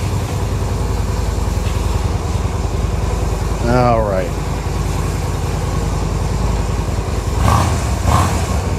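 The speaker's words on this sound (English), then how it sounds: "I'm gonna let it sit here and run for a little bit, let it warm up" A small 250cc motorcycle engine idling and warming up after a government auto auction, a loud, steady close-up putter that rises briefly midway, with a short spoken remark over it.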